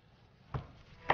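Food being chopped and crushed with a kitchen knife, heard as two sharp, separate knife strikes about half a second apart against a quiet kitchen background.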